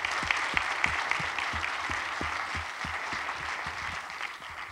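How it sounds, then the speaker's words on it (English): An audience claps together after a panel talk on integrity, a dense, even applause that carries on steadily and fades slightly at the end. "Can we give another round of applause?"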